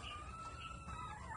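Chickens and a gamecock on a backyard Filipino farm make faint clucking and rooster calls over a low, steady background rumble throughout.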